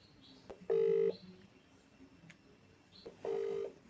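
Two bursts of a phone ringback tone while a video call is placed from a mother's phone, the first near the start and the second near the end, with a faint room hush between them.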